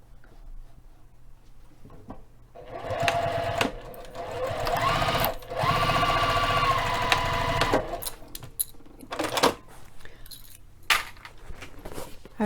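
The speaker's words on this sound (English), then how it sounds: "Just mash it down and sew across." A sewing machine stitches across fabric in a run lasting several seconds, its motor whirring close by, with light metallic clinks and handling noises before and after.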